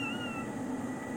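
A cat meows softly indoors, a short drawn-out call with a slight wavering pitch, close but quiet over a low background hum.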